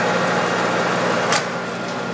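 A Clausing Colchester 13-inch by 40-inch metal lathe running at 320 RPM gives a steady, close mechanical hum with a low tonal drone, broken by one brief brighter hiss midway, with no talking.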